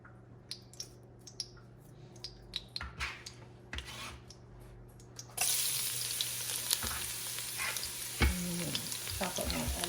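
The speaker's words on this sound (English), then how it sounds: "I have my oil heating up over there if you hear that. So let me go ahead and throw my garlic in." Chopped garlic dropped into oil heating in a home kitchen pan for beef shank soup, bursting into a loud, steady sizzle halfway through, after light tapping and stirring noises.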